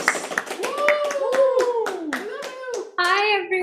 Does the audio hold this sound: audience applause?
yes